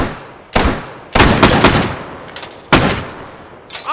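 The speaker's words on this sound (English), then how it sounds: "now he's just shooting at the orb" Gunfire in the VR shooter H3VR: several loud, close bursts of rapid shots, some single cracks and some short strings, with brief ringing pauses between them.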